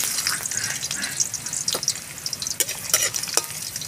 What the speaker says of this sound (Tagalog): Okay, magigisa na po tayo. Simula po tayo sa bawang. Sabay lang natin yung ating luya.